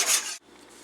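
A honey and yeast mixture for whole wheat bread is stirred in a bowl, giving a brief close scraping rub that stops abruptly, then a softer continuing swish.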